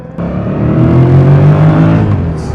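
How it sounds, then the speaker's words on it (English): Yamaha MT-07 motorcycle with its CP2 twin-cylinder engine revving, a loud close-up droning rev that rises and holds for about two seconds, then eases off. "you get that drone from the engine, from that lovely CP2 engine"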